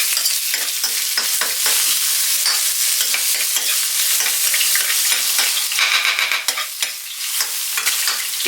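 Onions sizzle steadily in a hot pan for a Filipino dinengdeng, with frequent scraping stirs of a spatula tapping through the loud, continuous frying; no voices.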